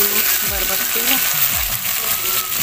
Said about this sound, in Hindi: हमारा आलू मस्त बढ़िया फ्राई हो चुके हैं